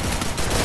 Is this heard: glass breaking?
no